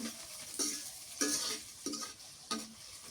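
Dried fish fries in oil and is stirred with a utensil. Four or five quiet, evenly spaced scraping strokes sound over a soft sizzle, close but fairly faint.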